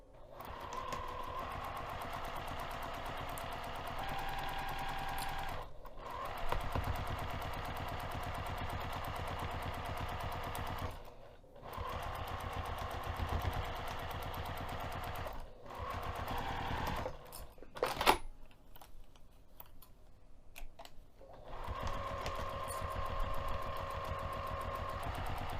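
Sewing machine running a 1/4 inch seam in several bursts of steady, fast mechanical whirring with short pauses between them, fairly quiet and close, with no talking.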